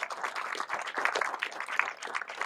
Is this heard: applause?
yes